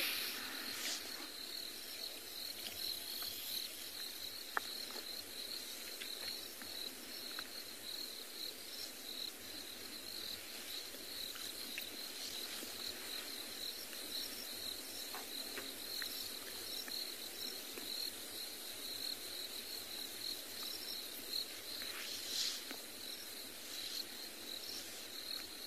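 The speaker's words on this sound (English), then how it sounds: "There's lots of crickets" Many crickets chirp outdoors in a dense, continuous high trilling chorus, steady and moderately faint, with no talking over it.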